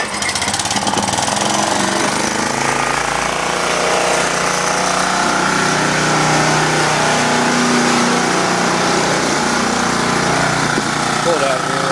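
A small engine on a cold start runs loud and continuous after being choked and pull-started, with a rough steady drone and someone talking over it.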